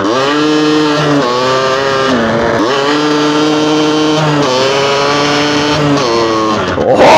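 Motorcycle engine braking on the first ride of the year, a loud, close engine with harmonic whine dropping and rising in pitch through several downshifts, sustained throughout without talk.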